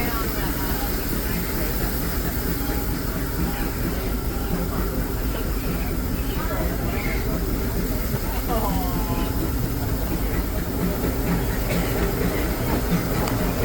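The Disneyland Railroad steam train rolls along at the park, a steady loud rumble and hiss with clickety-clack from the rails, continuous throughout, heard up close from aboard.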